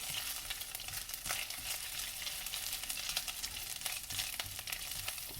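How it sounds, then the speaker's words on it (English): Garlic browns in a hot pan with a steady, close frying sizzle that sounds alone, and a few brief stirring scrapes are heard over it. "I love the way garlic smells when it's browning."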